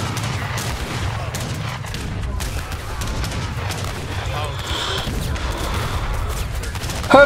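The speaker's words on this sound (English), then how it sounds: "Heavy cannon!" Age of Empires 3 battle noise with heavy cannon and gunfire: a dense, continuous roar of overlapping shots and booms, loud and sustained throughout, with game voices shouting over it.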